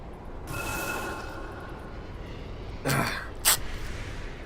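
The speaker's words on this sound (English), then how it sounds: "Sorry about the coughing" A person coughs and clears their throat a couple of times, short rough bursts close by against a quiet background.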